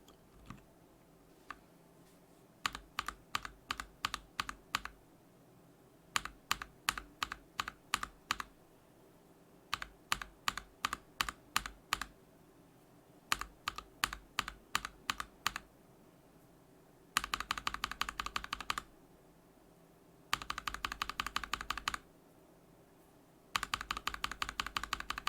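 Typing on a mechanical keyboard fitted with NovelKeys Cream tactile switches: close, crisp key clacks in rapid bursts separated by short pauses, with several denser, faster runs later on.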